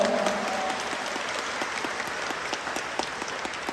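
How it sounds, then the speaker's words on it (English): Steady round of applause for someone speaker at a formal event, many hands clapping in a dense, continuous wash at moderate level throughout, with no voices on top. "Again, please give her a round of applause"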